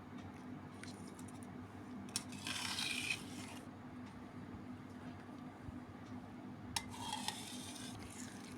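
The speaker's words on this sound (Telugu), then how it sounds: "మొత్తం ఇట్లాగా చక్కగా కలుపుకోవాలండి" Cooled oil tempering is stirred by hand into grated raw mango pickle, giving a soft, faint scraping and mixing texture with two brief louder scrapes over a steady low background hum.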